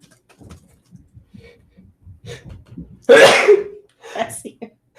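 A single sharp sneeze bursts out loudly over quiet background chatter, standing alone for about a second before talk resumes.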